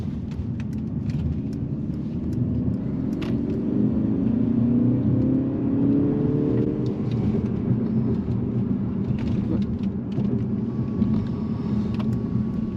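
A 2024 Mercedes-Benz CLE 300 4MATIC coupe accelerating, heard from inside as a steady low engine drone and road rumble whose pitch climbs gradually, with no talk over it.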